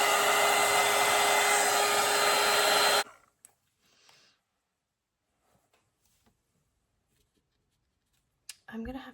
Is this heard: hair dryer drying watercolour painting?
yes